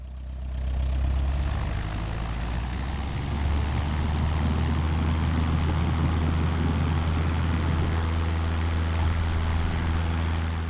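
Steady engine roar of a Fiat CR.32 biplane's 600-horsepower V12 during a run-up in Flight Simulator X, a loud continuous low drone with propeller thrum that holds throughout without pause.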